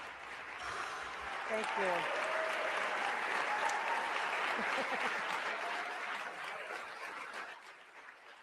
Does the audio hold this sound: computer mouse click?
no